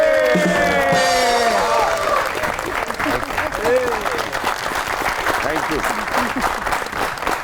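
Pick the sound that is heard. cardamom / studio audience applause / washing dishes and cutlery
studio audience applause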